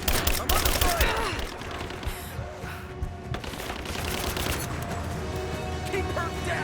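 Rapid gunfire rattles through a Rise of the Tomb Raider firefight, loud dense bursts and single cracks overlapping continuously, with soldiers shouting over the shooting.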